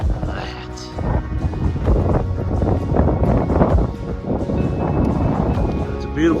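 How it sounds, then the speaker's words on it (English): Breezy wind buffets the microphone on a sunny California stretch of the Pacific Crest Trail near Scissors Crossing, a steady rumbling gust heard alongside a person talking. "It's a beautiful sunny breezy day."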